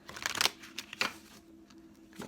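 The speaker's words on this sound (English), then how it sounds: "Give it one more shuffle." A few quick bursts of oracle cards being shuffled close up, crisp riffling flutters separated by short pauses, fairly quiet overall.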